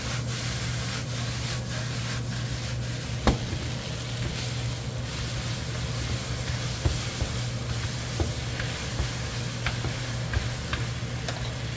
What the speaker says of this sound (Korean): 잘 섞이게 볶아주세요.